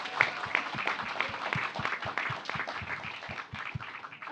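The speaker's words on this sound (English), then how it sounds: "Give it a round of applause" An audience at a soybean nutrition discussion claps for an arriving speaker, fairly quiet applause with a few distinct nearby claps standing out over the crowd.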